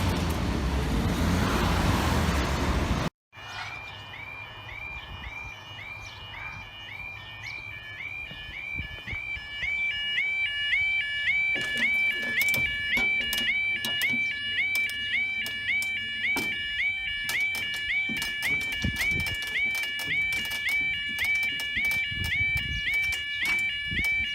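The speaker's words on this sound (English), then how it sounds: "This barrier makes more noise than the alarms." Level crossing alarms and a moving barrier at Stow Park, on a railway line, sound as a steady repeating two-tone warning over road and traffic noise. After an abrupt cut near the start, loud mechanical clatter from the barrier joins in.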